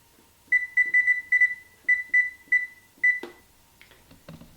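A kitchen timer beeps in a run of short, bright, evenly spaced pulses, loud and close, then stops, followed by a few faint clatters and rustles.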